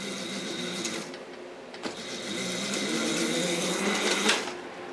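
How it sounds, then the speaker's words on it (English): An EGO battery-powered electric bike motor runs under heavy load, nearly stalling, giving a close, steady mechanical whir and buzz with slight shifts in strain. "Almost stalling the motor right there"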